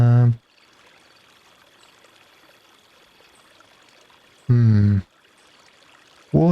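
Water in The Crimson Maid flows with a soft, steady trickle, faint and continuous, interrupted by short bursts of a voice talking at the start, near the middle and at the end.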